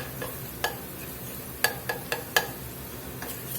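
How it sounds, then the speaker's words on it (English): Flour cooking in a pot for broccoli cheddar soup, soft sizzling under scattered spoon clinks and scrapes against the pot, quiet and close. "We'll let this cook off here a few minutes, get that raw taste out of this flour."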